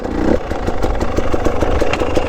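Dirt bike engine revving in second gear during wheelie practice, loud and close, with a steady rough idle and rapid pulsing firing beats throughout.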